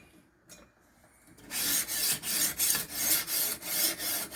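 A knife is sharpened on a whetstone in a Ruixin Pro RX-009 sharpener, with rhythmic rasping strokes, about six regular back-and-forth passes, loud and close after a quiet start.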